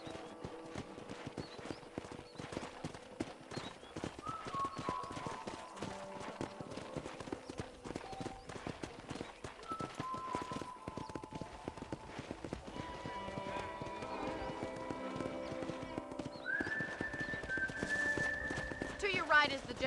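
Horse hooves clip-clop steadily through a ranch in the Red Dead Redemption game, a continuous rhythmic trot under a voice and background music, with a brief whinny near the end.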